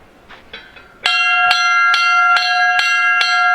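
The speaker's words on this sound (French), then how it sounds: "La cloche qui sonne, c'est pour inviter tous les potages du petit séminaire à rallier les salles de cours" A bell at a minor seminary, the Petit Séminaire Saint-Joseph de Ngazobil, rings to call students to class, sounding loud, clear, evenly spaced metallic strikes with a long ringing tone after a few fainter hits at the start.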